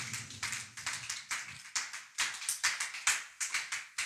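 Congregation clapping together in a French-speaking evangelical church service, a steady rhythmic run of sharp hand claps lasting several seconds, loud and close with no talking over it.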